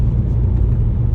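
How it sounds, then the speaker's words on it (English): A BMW 130i with the N52 engine cruises in sixth gear at about 2000 RPM under light load, giving a steady, low, continuous engine and road drone inside the car with no talking. "Now I'm driving it normally like 6th gear, cruising 2000 RPM, light load"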